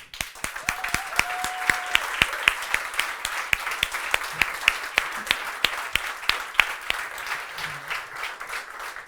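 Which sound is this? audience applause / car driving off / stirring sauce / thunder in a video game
audience applause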